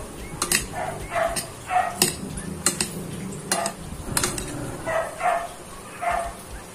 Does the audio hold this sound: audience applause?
no